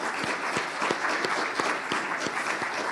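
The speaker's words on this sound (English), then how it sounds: "give them a round of applause to our members" An audience at a digital summit claps for members, a moderate, steady patter of applause with distinct individual claps standing out.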